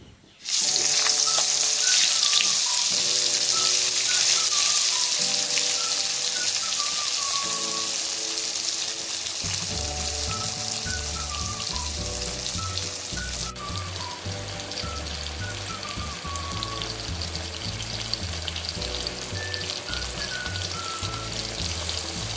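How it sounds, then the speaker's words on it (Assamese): Brinjal pieces fry in hot oil in a wok, a steady loud crackling sizzle throughout with music playing underneath. "তেলখিনি গৰম হোৱাৰ পাছতে মই বেঙেনাখিনি ফ্ৰাই কৰি লওঁ"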